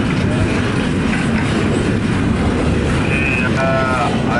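Freight train with a distributed power unit rolling past, a loud, continuous rumble of wagons with faint rail squeal, buffeted by wind on the microphone and with voices mixed in.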